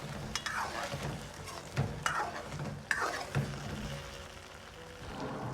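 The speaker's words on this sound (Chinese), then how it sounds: "倒入鸡蛋液" Beaten egg poured into a hot pan with tofu for scallion braised tofu, a soft crackling sizzle with a few scrapes and stirring knocks, fairly quiet and close, with a brief voice in the background.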